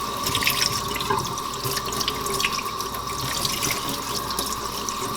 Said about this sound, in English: I'm going to sit here and run it underneath the faucet here for just a second.